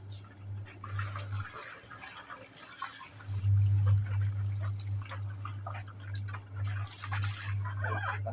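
Water is poured and splashed over a helmet to rinse away soap, an uneven watery rush running over a steady low mechanical hum that drops out briefly and then returns louder.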